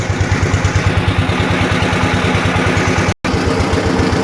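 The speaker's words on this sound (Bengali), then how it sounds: "শব্দের কারণে মনে কষ্ট নেবেন না এটা হচ্ছে যে ট্রলার করে আমরা যাচ্ছি" A trawler boat's diesel engine chugs steadily up close, its low rhythmic throb continuous apart from a split-second dropout.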